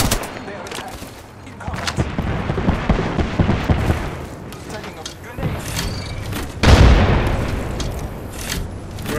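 Grenade explosion in a multiplayer shooter video game: one heavy, loud boom bursts out late in a stretch of continuous gunfire and combat noise.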